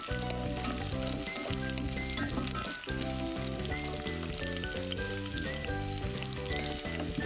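Onions sizzling loudly in a hot pan for chicken tinola, a dense continuous fry heard up close over a steady musical backing track, with a brief dip midway.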